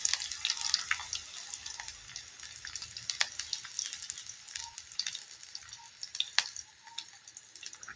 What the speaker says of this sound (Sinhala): දැන් ඉතින් බැදෙන්න ඉඩ හරින්නකෝ